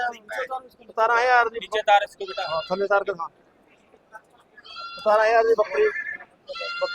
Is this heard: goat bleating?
yes